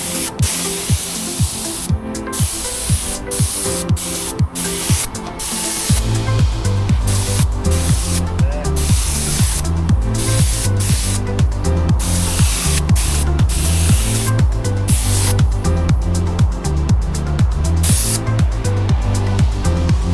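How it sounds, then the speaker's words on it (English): Lacquer clear coat sprayed onto car bodywork with a spray gun, a steady close hiss broken by short on-off bursts as the trigger is pulled and released, with no talk. "Last coat of lacquer."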